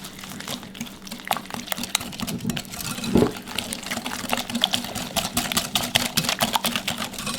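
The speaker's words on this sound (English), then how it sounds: "we're just going to mix this together very well. So I'm using a wire whisk." A wire whisk beats lemon juice with other ingredients for lemon bars in a bowl, a close, busy run of quick clinking and sloshing strokes that continues steadily without talk.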